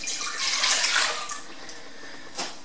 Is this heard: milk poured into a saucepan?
yes